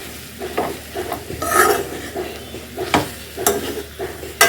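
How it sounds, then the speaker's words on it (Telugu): Gongura leaves fry in a kadai while a spoon stirs them, scraping and clinking at irregular intervals over a steady soft sizzle, close and moderately loud. "గోంగూర అయితే చూడండి ఎలా వేగిందో"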